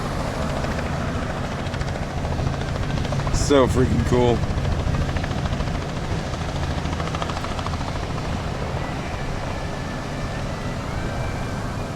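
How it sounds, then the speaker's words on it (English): A landing helicopter's rotor drone rumbles throughout, steady and fairly close, while a person speaks briefly over it, in Branson, Missouri. "There's a helicopter landing."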